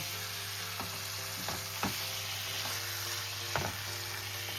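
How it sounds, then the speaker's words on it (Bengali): Chicken fries with tomato, onion and garlic in a pan under a continuous soft sizzle and low hum, with a few distinct scraping stirs standing out at intervals, with no talk. "এবার আমি চিকেনটাকে ভালো করে টমেটো, পেঁয়াজ, রসুন এর সঙ্গে ভালো করে আমি কষিয়ে নেব।"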